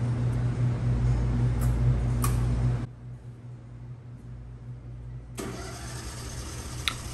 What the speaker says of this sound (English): The FOS system, sensing power failure, signals the generator to start.